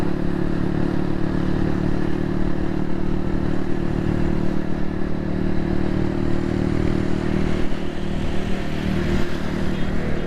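Motorcycle with a faulty silencer on a Karachi street, its engine running with a steady, loud, rough drone and rattling clatter throughout, close up and without talk.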